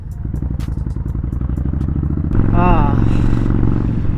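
A Honda Fury motorcycle engine idles with a steady, rapid thumping, then revs up louder partway through, close by, with some clattering.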